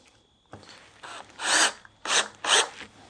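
A screw is driven into a wooden cleat used as a bookcase shelf support, heard as several short, close, gritty rasping bursts with brief pauses between them.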